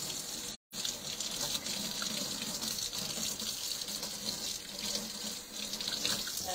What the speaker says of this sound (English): So I'll rinse this off and you guys can see what this one looks like.